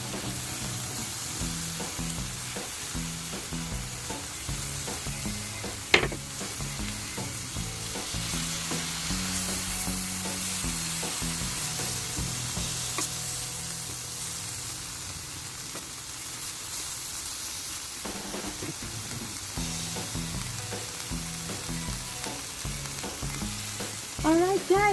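Small stuffed squid grilling while being basted, giving a continuous close sizzle and crackle with a few brief knocks, steady and alone throughout.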